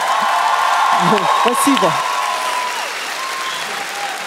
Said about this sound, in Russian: Ребята, ваши бурные аплодисменты.